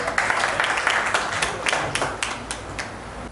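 Hands clap in an even, fairly quick rhythm at a gathering honouring a special guest, sharp claps standing out over a light murmur of background noise.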